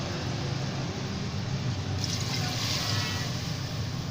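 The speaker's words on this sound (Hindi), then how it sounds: "अब इसमें मैंने 2 गिलास पानी डाल दिया" Two glasses of water are poured into a pressure cooker holding mutton for namkeen gosht, making a steady, continuous splashing and trickling wash that grows slightly brighter partway through.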